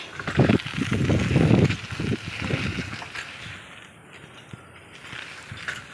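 Road construction machinery at work on a street on Henry Island, heavy mechanical clanking and grinding bursts up close at first, then quieter rumbling.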